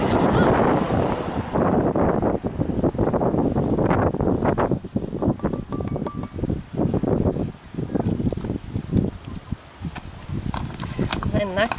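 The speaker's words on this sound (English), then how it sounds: "because it's bloody windy here" Strong wind buffets the microphone outdoors in gusty, roaring bursts, loud and close, while a person talks through it.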